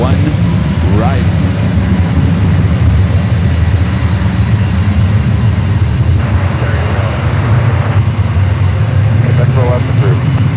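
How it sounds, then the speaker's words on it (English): A United Airbus A321neo jet rolls down runway 1 right at San Francisco airport, a loud continuous engine roar with a broad rumbling low end, heard under someone talking. "the United A321 Neo now rolling down"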